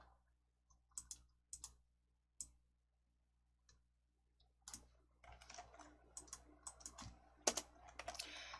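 Keys tapped on a computer keyboard while working in an Excel spreadsheet: a few separate, quiet clicks with pauses, then a quicker run of keystrokes near the end, close by and alone.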